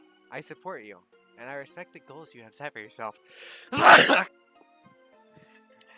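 A character in the video game Soma lets out a single loud, breathy sneeze after a calm synthetic-sounding voice speaks, followed by near silence.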